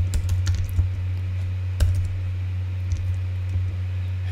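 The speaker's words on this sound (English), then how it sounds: "you're going to type in your name" A name is typed on a computer keyboard in quick clusters of close key clicks with short gaps, over a steady low electrical hum and no talk.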